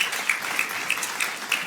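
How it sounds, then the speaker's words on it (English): An audience applauds panelists at a contractors' discussion event, a steady round of clapping that holds at even loudness for the short stretch with no voices. "I want to give our panelists a round of applause"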